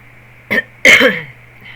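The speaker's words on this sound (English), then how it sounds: "Have to cough at least once during the video." A single short, throaty cough close to the mic, preceded by a brief smaller burst, with quiet room hum around it.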